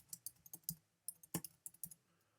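Light clicking keystrokes on a computer keyboard, an irregular burst of about a dozen quiet taps heard close and alone.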